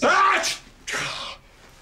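A single loud sneeze bursts out close by, followed by a short breathy exhale, in a family dinner scene indoors.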